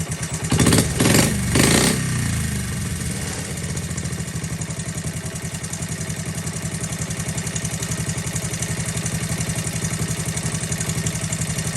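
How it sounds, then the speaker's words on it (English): A Honda Z50K2 motorcycle engine idles steadily and close by in an even, rapid putter, after a brief louder surge in the first two seconds that settles back down. "But it's just sitting there, just idling away."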